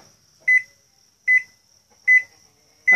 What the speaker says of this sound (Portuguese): Vamos ver se ele dá aquele bipzinho no final.